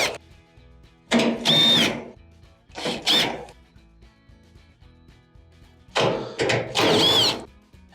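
A power driver backs out screws holding a Maytag dryer's blower housing in three separate bursts of high, whining spin with short pauses between, loud and close by, and nobody talking.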